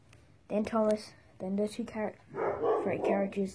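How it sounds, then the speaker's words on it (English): A dog barks nearby in a home, a few loud barks breaking in while someone talks over a Thomas the Tank Engine toy train set. "that's my dog."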